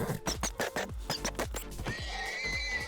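Horse being killed in the Minecraft video game, letting out a rapid series of sharp neighs and hurt cries, followed by a steadier, sustained tone near the end.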